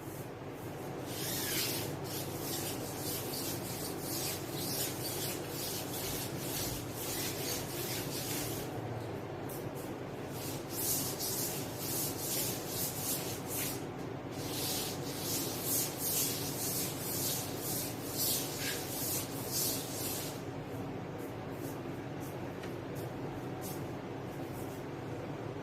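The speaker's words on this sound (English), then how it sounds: "Okay, let's rub the board first." A classroom board is rubbed clean during a physics lesson, with rhythmic scrubbing strokes in uneven bursts over a constant low room hum, fairly faint and without speech.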